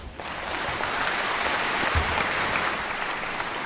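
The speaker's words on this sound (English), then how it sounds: "let's welcome the talented Bill Cunliffe and Giorgia Fumanti with a warm round of applause" An audience applauds warmly, a dense sustained clatter of many hands clapping, steady and fairly close, with a stray cheer.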